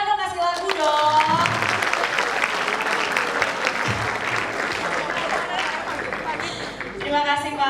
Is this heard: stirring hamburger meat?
no